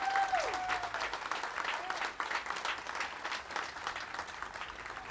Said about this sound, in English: we should give them all a big round of applause